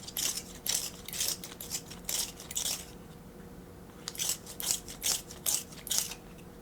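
A colored pencil is turned in a small sharpener, giving two bursts of quick, rhythmic crunching and scraping that are close but quiet, with a short pause between them.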